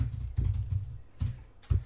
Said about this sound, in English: you can actually hear me typing because I am quite a heavy typer